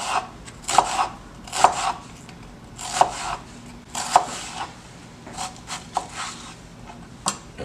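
A sharp knife chops through an onion on a cutting board, a run of crisp, close knocks and slices at an uneven rhythm with brief pauses between strokes, no voices.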